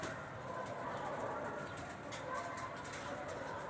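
Pigeons gather around a bathing tub, soft cooing and occasional wing flutters faint against a steady outdoor background hiss, with no clear talk.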